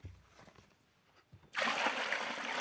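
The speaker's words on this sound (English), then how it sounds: "Let me pour you a cup of tea" Tea pours into a cup: a faint few knocks and near-silence, then a sudden, loud, steady splashing stream that begins partway through and keeps going close by until it ends.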